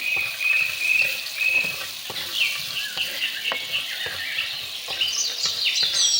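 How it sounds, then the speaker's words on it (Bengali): Pumpkin bori, small sun-dried lentil dumplings, fry in hot oil with a continuous bright sizzle and crackle, plus occasional stirring clinks close by. "কুমড়ো বড়িগুলো ভেজে নেব"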